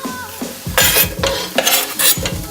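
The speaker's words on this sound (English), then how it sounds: "Now you're going to add your potatoes to your onion." Potatoes are stirred into onions in a pan while cooking chorizo soup, giving repeated close scrapes and clinks of a utensil against the pan over a light sizzle, arriving in uneven bursts.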